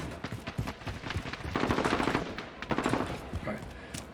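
Rapid automatic gunfire from Call of Duty gameplay on a PC, bursts of loud close shots repeating through the whole span with a brief lull, a voice faintly present underneath.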